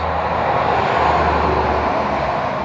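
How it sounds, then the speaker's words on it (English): Continuous broadband roar of passing traffic or engine noise, loud and steady, swelling slightly mid-way, with no talking. "road noise."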